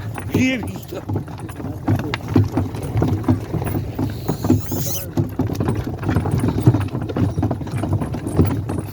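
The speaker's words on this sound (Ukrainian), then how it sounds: "Запрягли коні, їдемо" Draft horse hooves clop in a steady rhythm as a cart rolls along, with people talking over it.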